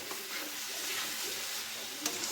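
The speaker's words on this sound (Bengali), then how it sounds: "কন্টিনিউ কিন্তু নাড়াচাড়া করে নিতে হবে, নাড়লে কিন্তু তলায় বসে যাবে।" Sugar syrup being stirred in a pan while cooking down for Bengali naru sweets, a steady soft sizzle with faint scraping throughout, close and fairly quiet.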